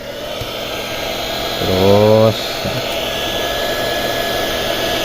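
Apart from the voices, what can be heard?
hair dryer blowing to dry a phone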